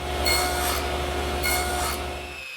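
Table saw nibbling away wood with the blade and a miter gauge set to 7 degrees, a steady motor whine broken by two rasping cutting passes, then the tone drops away at the end.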